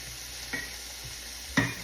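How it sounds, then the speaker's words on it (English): Sausage frying in a pan for sausage gravy, a steady soft sizzle with two brief scrapes or stirs, close and alone with no talking. "Got my sausage going to add to my sausage gravy."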